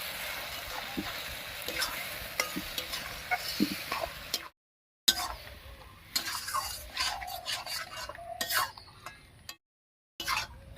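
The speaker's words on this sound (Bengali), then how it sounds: "বেটে রাখা মানকুচুর ডাটাটা লেগেছে এবারে মশলার সঙ্গে খুব ভালো করে মিশিয়ে নেব" Ground taro stems being stirred with spices in a pan for a hilsa-head curry, giving soft scraping and occasional light clinks of a utensil against metal, fairly quiet and intermittent with brief pauses.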